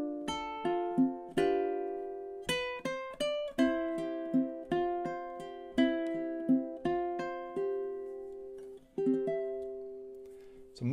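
Fingerstyle ukulele playing the closing measures of the Celtic air Carrickfergus, plucked notes ringing in a steady, gentle melody with chord tones, close and clear with no talk.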